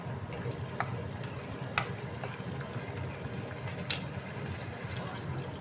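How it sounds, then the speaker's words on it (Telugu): Dry chillies, cumin, curry leaves and mustard seeds sizzle in hot oil, a steady soft frying hiss broken by a few sharp pops and crackles. "చూడండి, అన్నీ తాలింపు వేసేస్తాను."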